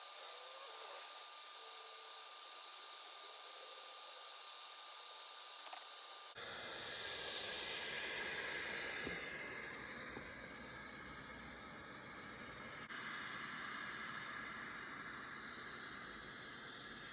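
An electric air pump inflates an Intex Simple Spa through a quick-connect port. After a few quiet seconds it starts up as a steady, loud, breathy rush of air that runs without a break.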